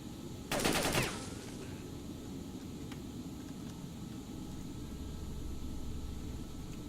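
A short burst of rapid automatic gunfire from STALKER: Shadow of Chernobyl rattles out near the start, then gives way to low steady background noise.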